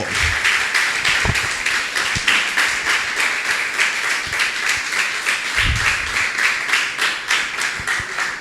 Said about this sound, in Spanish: Vamos a darle un fuerte aplauso al Dios Todopoderoso